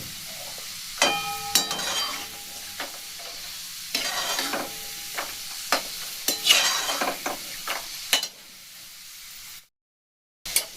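Sweets modelled on Bardhaman's Sita Bhog, made without chhana, sizzle and crackle in hot oil while being stirred, with bursts of frying spatter and utensil clatter close by. Toward the end there is a short silence.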